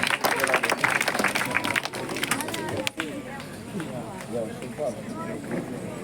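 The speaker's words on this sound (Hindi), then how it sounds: "जोरदार तालियों से स्वागत।" A crowd at a village stage program claps to welcome guests, a dense burst of applause that thins and fades after a few seconds, with a voice speaking over a public address.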